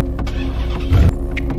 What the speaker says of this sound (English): The engine won't turn over.